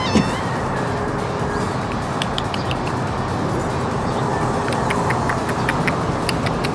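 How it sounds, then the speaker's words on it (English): A cat meows repeatedly over steady background noise at a junkyard, with several short, clear cries spaced through the recording. "Looks like the cat from last time."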